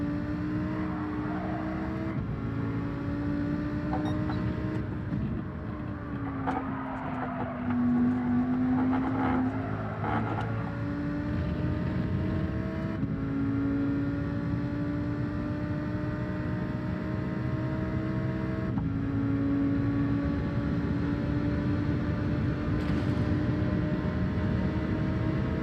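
A race car in Gran Turismo 7 at the Nürburgring revs steadily through the gears, its engine pitch climbing, dropping at shifts and climbing again in a loud, close, continuous drone with no talk.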